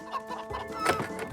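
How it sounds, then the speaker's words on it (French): Cartoon chickens cluck in a quick, busy flurry of short calls while being herded toward a cage, close and clear. "il rassemble les poulets devant la cage comme le ferait un chien de berger avec des moutons"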